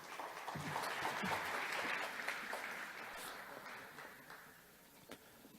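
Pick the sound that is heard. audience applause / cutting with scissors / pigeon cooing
audience applause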